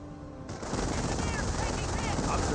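Sustained rapid MG42 machine gun fire in a Company of Heroes World War II battle, a dense continuous burst of loud gunfire with other weapons mixed in.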